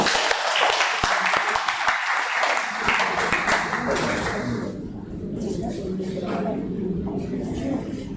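Audience applause at a library seminar, dense clapping for several seconds that thins and softens into scattered claps and murmuring voices toward the end.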